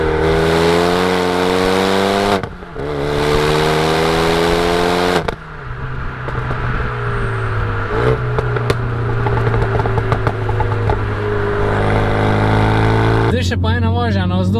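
A Renault Megane RS RB7 hot hatch is driven hard on a downhill road. The engine is loud and close and revs up through several gears, with sharp cuts at each gear change and a final high rev.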